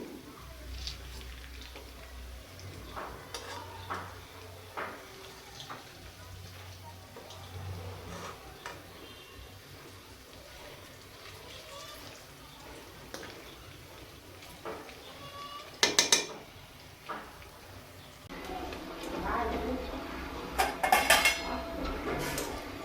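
Medu vadas frying on medium heat in oil and being flipped, with steady low sizzle, scattered utensil clinks, and a few sharper metallic scrapes and clatters toward the end as the fritters are turned.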